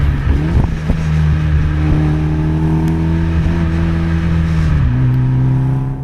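A tuned Mitsubishi EVO X on a road test, its engine accelerating with a loud, close, rising drone that steps up through the revs, then drops briefly as a gear shifts and climbs again.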